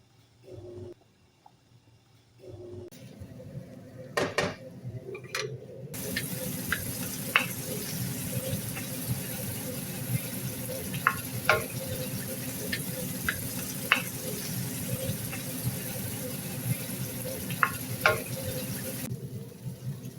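Steady sizzling and bubbling from a pan on the stove while making chicken biryani, with scattered small clicks and taps of utensils throughout.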